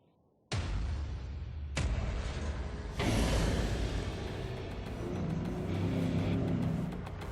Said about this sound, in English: We know that the Citroën is powerful and torquey